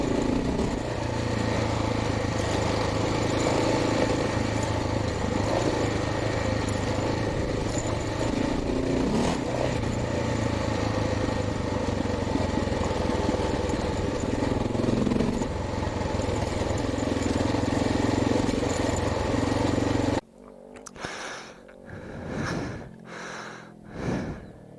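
Motorcycle engine from a Honda XR or Kawasaki Versys riding over jumps near Badger Lake, a steady loud drone for about twenty seconds, then cutting to choppier bursts of revving and wind buffeting near the end.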